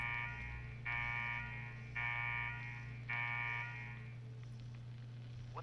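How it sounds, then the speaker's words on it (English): An alarm in the video game Fallout 4 sounds in three repeated buzzing blasts about a second each, steady and tonal over a low background hum, fairly faint and without speech. "What the hell is that alarm? What's that noise?"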